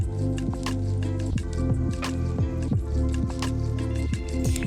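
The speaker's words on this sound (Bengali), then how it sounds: "এবার কিছুক্ষণ এরকম ভাবে মিশাতে থাকবো যতক্ষণ না ভালোভাবে শাকটা রান্না হয়ে যাচ্ছে।" Pea greens (matar shaak) being stirred in a cooking pan, giving repeated wet squishing and dripping sounds in a steady rhythm, close and fairly loud, with no talking.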